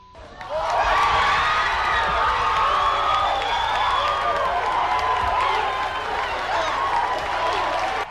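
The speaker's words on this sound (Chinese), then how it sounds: "现场观众大声叫好。" A studio audience at a talk show cheers and applauds loudly and continuously, with dense clapping, whoops and shouts that swell in early and hold steady.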